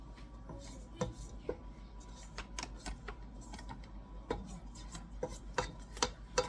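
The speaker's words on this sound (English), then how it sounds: "I'm just going to kind of scrape the sides of the bowl" A spatula scrapes the sides of a mixing bowl of ginger cookie dough, giving soft rubbing strokes broken by sharp, irregular clicks and taps against the bowl, close by and quiet.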